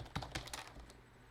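Several quick keystrokes clatter on a computer keyboard, a short burst of light close taps that fades into quiet.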